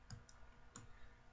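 A computer mouse clicks while selecting print properties for ID card printing, a few faint, short close clicks with pauses between them, in a quiet room.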